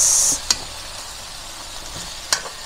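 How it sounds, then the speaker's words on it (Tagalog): Squash, okra and string beans sauté in hot oil for pakbet, a steady close sizzle with a brief louder hiss at the start and two sharp clinks of a stirring utensil against the pan. "Nuna ko po yung ginigisa dahil yan po ay matigas"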